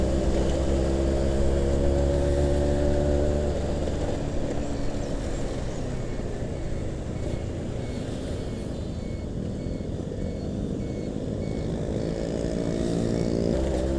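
A Suzuki Tornado GX100, a manual-clutch 100cc motorcycle, hums steadily while riding on a city road, its engine drone continuous and close with slight pitch shifts as it accelerates and eases off.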